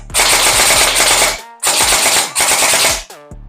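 GelBlaster GBR Copper Head gel blaster firing full auto: three close, loud bursts of rapid mechanical shots, each about half a second to a second and a half long, separated by short pauses.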